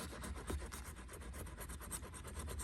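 A coin scrapes across an old scratch-off lottery ticket in quick, close, rhythmic rasping strokes, fairly quiet and with no talk.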